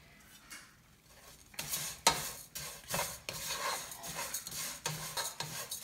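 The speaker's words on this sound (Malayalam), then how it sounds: "ഇത് നമുക്ക് ഈ നെയ്യിലേക്ക് ഇട്ട് ഒന്ന് വറുത്തെടുക്കാം" Roasted vermicelli stirred and fried in ghee in a pan, giving soft scraping stirs and light sizzling in irregular bursts, close and fairly quiet, with no talking.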